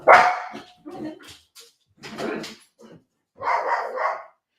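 A dog barks in a garden at a cat, giving several loud, close barks in separate bursts with short pauses between them.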